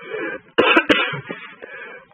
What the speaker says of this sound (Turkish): Öksürüyorum filan.